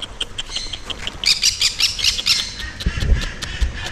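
Birds in a bird park at Pelling, Sikkim, give repeated loud nearby squawks in short rapid bursts over soft rustling ambience, with no talk.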